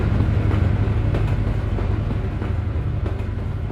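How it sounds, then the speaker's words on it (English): A passenger train in Euro Truck Simulator 2 rumbles past with a steady, loud low-frequency roar and rolling wheel noise that stays constant throughout, with no talking. "That's a passenger train."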